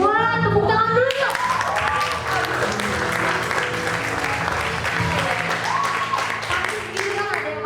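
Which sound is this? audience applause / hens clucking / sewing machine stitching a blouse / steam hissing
audience applause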